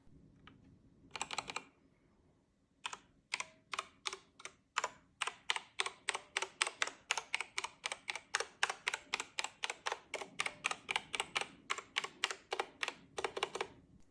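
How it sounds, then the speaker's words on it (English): Typing on a GameSir VX2 gaming keyboard with quiet, smooth TTC red mechanical switches: a steady run of soft, fast key clicks heard up close and alone, with a brief pause near the start. "It comes with TTC red mechanical switches, and they are very quiet and smooth"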